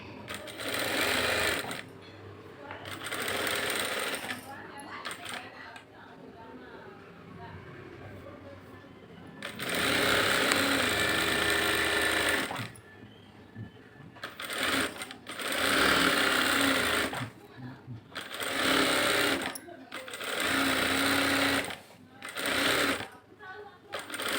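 A sewing machine stitches a lined blouse in rapid whirring bursts of several seconds each, broken by brief pauses, while someone talks between and over the runs.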